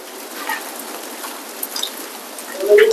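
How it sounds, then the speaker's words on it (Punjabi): A dense, steady patter of hailstones drums on surfaces nearby in Bathinda, a continuous hiss with scattered sharper impacts. "ਗੜੇ ਗੜੇ ਆ ਗਏ ਆ"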